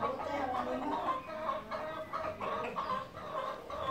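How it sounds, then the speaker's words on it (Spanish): Hens on a farm cluck in a steady, rhythmic series of soft calls, faint and close together over a few seconds with no other sounds standing out. "¿Quieren poner las gallinas? Quizás están cantando."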